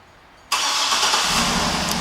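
A white 2008 Cadillac Escalade ESV AWD engine starting by remote start: quiet, then an abrupt catch into a loud, steady idle that holds close and even with no talking.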